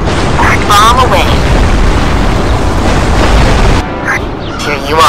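A bomb explodes in the video game Iron Wings, a loud, sustained rumbling blast that fills the clip for about four seconds before dropping off, with game voices faintly underneath.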